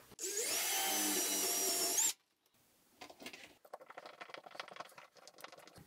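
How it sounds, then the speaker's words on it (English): A power drill pre-drilling into a bathroom wall stud whirs steadily for about two seconds, close and loud, then cuts off, followed by faint scattered clicks and handling noise. "So I'm going to pre-drill it."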